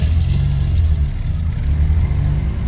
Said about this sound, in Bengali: সাদ্দামের মোটর বাইকটা আরো জোরে ছুটতে লাগলো।